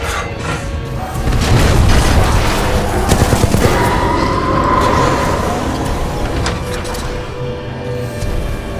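Explosions and gunfire rumble through a Titanfall 2 battle, with a loud low boom swelling early, a burst of rapid crackling shots in the middle, and a sustained heavy roar of combat beneath.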